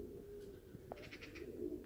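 Domestic pigeons cooing in a loft, soft low throaty coos repeating over a faint background hum, with no talking.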